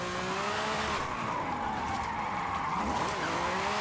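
Car engine drones steadily while tires slide and hiss in the Forza Horizon 5 racing game, the engine pitch rising and falling slightly under a constant, dense wash of noise.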